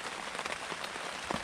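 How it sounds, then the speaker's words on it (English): Rain falls steadily at a campsite, a soft, even patter of drops on a surface, faint and close with a few slightly louder taps. "Started raining around 6 o'clock."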